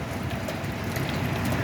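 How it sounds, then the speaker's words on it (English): Spray water from power washing high up on a building falling to the ground like steady rain, a continuous dense patter and hiss with no talk. "These people are power washing way the hell up on that building"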